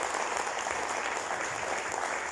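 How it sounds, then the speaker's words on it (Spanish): Congregation applauding in a church during a morning service, a steady, dense wash of many hands clapping at moderate volume throughout, with no speech over it. "Denle un aplauso a Cristo Jesús esta mañana"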